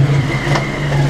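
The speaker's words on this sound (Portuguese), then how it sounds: "Vai na moto no lugar e desliga ela" A motorcycle engine runs steadily close by, a continuous idling hum with a low tonal drone and no speech over it.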